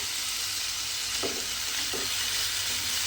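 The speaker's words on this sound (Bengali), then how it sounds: "এইভাবে কিন্তু একটু নাড়াচাড়া করে নেব" Jukti flower curry hisses softly in a pan, a steady low sizzle broken by two brief scraping stirs of a spatula, close and alone.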